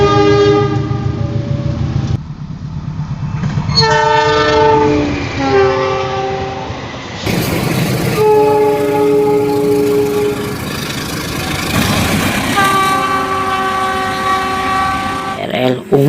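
A CC206 diesel locomotive rolls close by hauling rail cars, its horn sounding loud and sustained in several long blasts over the steady rumble and clatter of the train.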